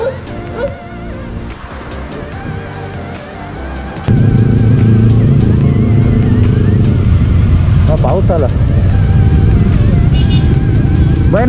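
Motorcycles on a group ride pull out of a gas station, a loud engine roar that surges partway through and stays heavy and close, with someone talking and brief high tones over it.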